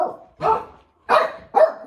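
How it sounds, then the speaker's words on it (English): A dog barks loudly three times in a row, close by, with short pauses between the barks. "He's just barking for the sake of barking"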